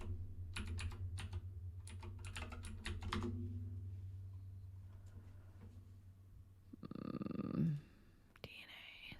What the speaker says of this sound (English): So if I type in DNA